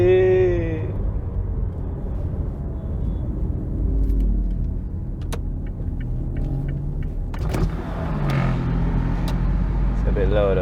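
Steady low rumble of road and engine noise inside a 2019 Mazda CX-5 cabin while driving in sport mode, continuous throughout with a few faint clicks and bumps and occasional speech over it.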